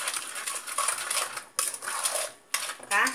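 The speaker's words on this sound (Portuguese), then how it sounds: "Você vai mexer bem mesmo" A metal spoon scrapes and clinks around inside a pan of banana sweet cooking on the stove, close and fairly loud, in bursts with short pauses between strokes.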